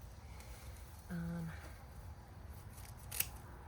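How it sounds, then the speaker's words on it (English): Garden shears trim a plant outdoors: one short, crisp snip, then a faint click later, all quiet against a soft outdoor background. "So you want it to be trimmed."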